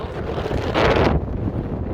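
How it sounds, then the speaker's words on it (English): Loud wind buffets and roars across the microphone, with a harsher gust near the middle before settling back into a steady rumble. "It's only 50-some degrees and it's very windy."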